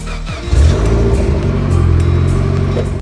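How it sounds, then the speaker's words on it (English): Mitsubishi Evo 10 engine idling while warming up, a steady loud car rumble that jumps up after a brief start and holds even and close. "let's jump outside, get this Evo warmed up"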